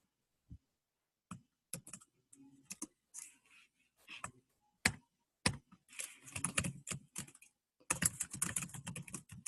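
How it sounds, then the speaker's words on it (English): Someone types on a computer keyboard in irregular bursts of quick clicking keystrokes with short pauses, close and fairly quiet. "I'm typing my response right now."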